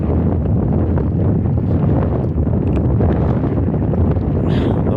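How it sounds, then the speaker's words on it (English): Strong wind buffeting a microphone outdoors at a pole building pad site, a loud, constant low roar and rumble that fills the whole stretch with no letup; no talking. "The wind is just a little bit crazy right now"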